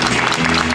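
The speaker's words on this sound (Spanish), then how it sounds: "quiero pedir un fuerte aplauso para Walter Olivo de Ushuaia" A crowd at a live event in Santa Teresita, Argentina claps in a brief, dense burst of applause, loud and close with no talking over it.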